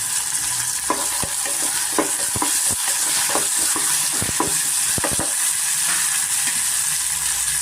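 Green field beans (avarekalu) fry with onion in a pan for a hotel-style avarekalu bath, a steady loud sizzle running throughout, with repeated close scrapes and clacks of stirring scattered over it.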